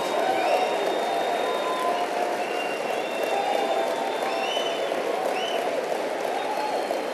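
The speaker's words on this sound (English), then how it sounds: "Give yourselves a round of applause." An audience applauds at a motivational speaking event, a dense sustained clapping that fills the room at close range with faint cheers mixed in.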